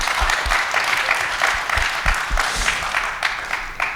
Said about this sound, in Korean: 이 대목에서 박수 한번 보내드립니다.